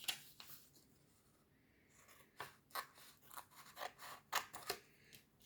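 Scissors snip through paper while trimming pieces for a handmade mini-album, a string of short, crisp cuts coming close and moderately loud in an irregular rhythm, with quiet pauses between bursts.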